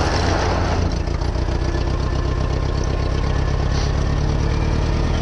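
A tractor engine idles steadily with a low, throbbing rumble and slight knock before plowing a field, loud and continuous with no talk.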